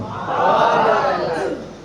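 A religious gathering honouring Imam Husayn, the audience chanting slogans together in a loud, swelling crowd roar that holds steady for nearly two seconds before easing off.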